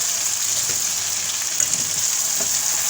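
Tomatoes fry in an onion, garlic and ginger masala in a pan, giving a steady, close sizzle with faint stirring scrapes and no talk.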